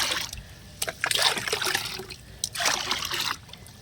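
Water poured to top up a mixture to 20 liters of liquid fertilizer for tomato plants, with intermittent trickling and splashing bursts, moderately near.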